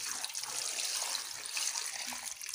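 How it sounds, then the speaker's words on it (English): Water pours steadily into a cooking pot holding yam, a continuous close splashing stream, loud and unbroken, with no talking. "then add water."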